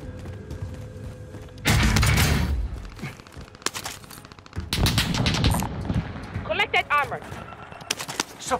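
Bursts of rapid gunfire from a shooting video game, with two loud volleys and scattered smaller shots and clicks, heard under intermittent radio-style voice talk.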